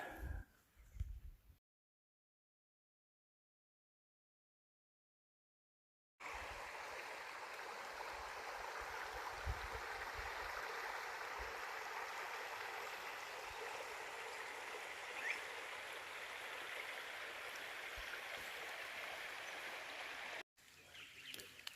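The Donnelly River flows along a forest walking track in a steady, broad rush of water with a few faint bird chirps, interrupted by a few seconds of silence near the start.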